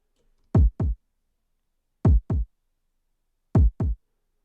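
Kick drum sample struck in three pairs of two close notes, the second of each pair quieter, punchy low thumps with silence between pairs, building a heartbeat sound effect.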